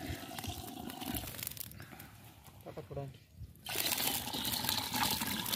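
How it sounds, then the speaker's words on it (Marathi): Water pours into browned rice inside a clay pot, a continuous splashing trickle that pauses briefly then resumes louder and steadier, close by, with a person talking over it. "आता यात पाणी घालूया आपण"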